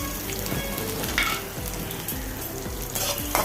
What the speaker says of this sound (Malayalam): ഇനി 1 സവോള ചെറുതായി അരിഞ്ഞതും കൂടി ചേർത്ത് കൊടുക്കുക.